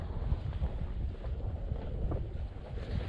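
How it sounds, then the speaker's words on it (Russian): Steady wind rushes and buffets the microphone while waves churn and lap continuously on a lake. No one speaks. "ветер-то там такой же, он слышно шумят волны"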